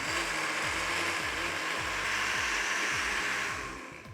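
A blender whirs steadily through a sauce for slow cooker pork carnitas, its motor droning loud and close with a rhythmic grinding pulse, tapering slightly at the end with no voices.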